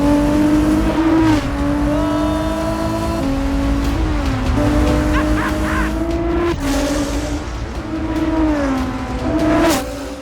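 Loud, close engine of a fifty-year-old Porsche 917 race car revving hard, its pitch climbing and dropping through repeated surges and gear changes over ten seconds, with a sharp rise near the end.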